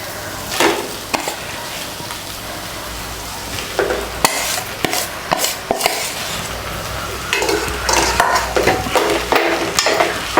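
Boiled sweet potato is stirred into a corn mixture with a utensil that scrapes and clacks against the bowl in irregular knocks over a steady soft hiss, close by and without voices.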